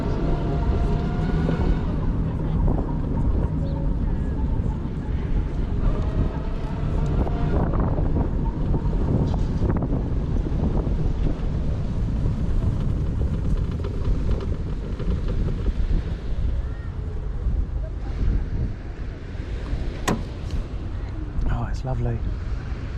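Strong wind blusters into the microphone outdoors on a sunny day, a loud, continuous low rumble with gusty surges throughout, while someone talks over it.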